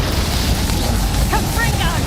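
A Confringo fire-blast spell explodes in Hogwarts Legacy combat, heard as a dense, steady low booming rumble at a constant level, with a few brief tonal chirps of game effects and faint voices mixed in.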